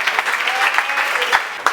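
Church congregation breaking into loud, dense applause, a close burst of many hands clapping together for about two seconds, rising and sustained without pause.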